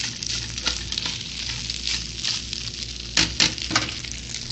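Day-old, slightly dried-out rice sizzles and fries in oil in a pan on a griller, a steady close crackle with a few louder bursts of spatter and stirring near the end, and no talking.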